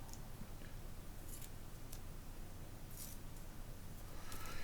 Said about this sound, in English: These are really, really good German-made scissors.